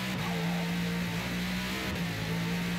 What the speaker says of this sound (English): A nice V8 screaming here.